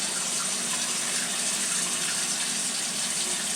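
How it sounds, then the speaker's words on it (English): A film developing reel stick for black and white film rinsed under running tap water at home, a steady close rush of flowing water with no voices. "Give this little stick guy a little rinse."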